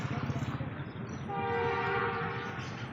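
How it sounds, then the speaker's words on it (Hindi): A train passes a rail crossing with a sustained, loud horn blast. The rumble and rhythmic clatter of the wagons sit underneath the horn close by. "आ गई है ट्रेन।"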